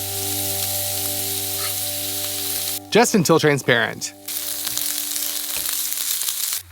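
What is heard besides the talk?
onion frying in olive oil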